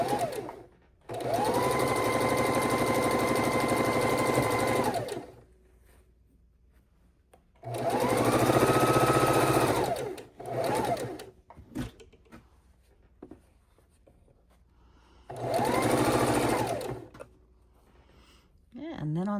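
A sewing machine stitches stacks of jelly roll quilt fabric strips together in three sustained bursts of several seconds each, with quieter pauses and handling noises between runs.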